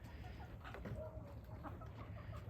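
Moulting white laying hens clucking softly and intermittently over a steady low rumble, with a short higher call near the middle.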